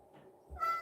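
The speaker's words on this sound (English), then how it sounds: "I hear your plaintive meows" A cat gives a short, plaintive meow close by, a single brief call that rises at the end over quiet room sound.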